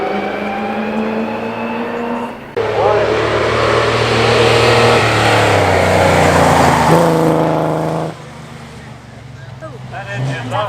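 A vintage Nash racing car climbs the Prescott hillclimb, its engine roaring loud and close as it accelerates hard through the gears for several seconds before the sound drops away.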